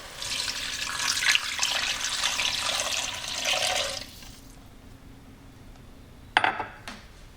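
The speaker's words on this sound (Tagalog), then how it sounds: "At maglalagay na rin tayo dito ng tubig. Ito na yung tubig natin." Water pours steadily into a cooking pot for pata paksiw for about four seconds, then stops; a brief clatter of metal follows shortly after.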